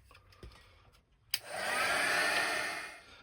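A hair dryer blowing on an art journal page switches on after a click, then runs as a steady, close whooshing hum for about two seconds before easing off.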